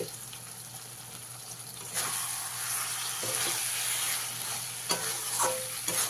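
A spoon stirs a fish curry of bottle gourd stems and potatoes in a pan over a sizzling low hiss, with scraping strokes that grow busier partway through, close and moderately loud without talk.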